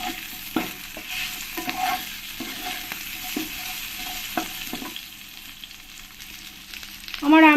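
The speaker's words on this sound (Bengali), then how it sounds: "দিয়ে ভালো করে আমি আমটাকে আর একবার ভেজে নেবো" Mango pieces sizzle continuously in a pan while a utensil scrapes and taps against it in irregular stirring strokes, close and clear without talk.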